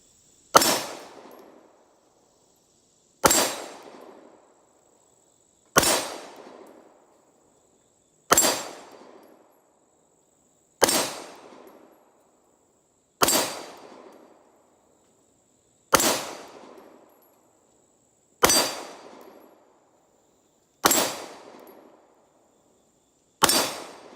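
A 9mm striker-fired Glock pistol fires ten evenly spaced shots at a steel plate, one roughly every two and a half seconds. Each crack is sharp and loud and rings out briefly before the next, with no talking.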